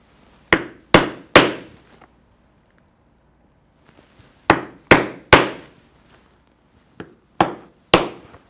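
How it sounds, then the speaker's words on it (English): A steel hole punch is hammered through leather to make 1/4 inch eyelet holes, sharp close strikes in clusters of three, three and three, with short pauses between groups. "I will punch the 1/4 inch holes for the eyelets right on the marks that we made."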